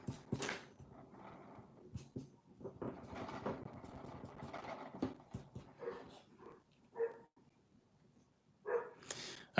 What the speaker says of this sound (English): It's my neighbor's dog barking,